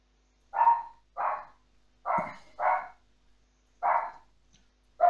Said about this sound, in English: That is a dog.